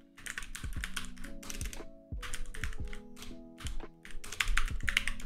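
Rapid bursts of close typing on a computer keyboard, clicky keystrokes arriving in quick runs with short pauses, over soft steady background music.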